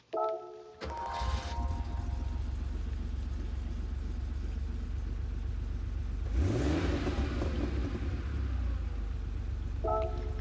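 A 1981 Porsche 911 Turbo (930) from Gran Turismo 7 cranks and fires up, then settles into a loud, steady idle with a brief rev swell partway through and a chime at the end.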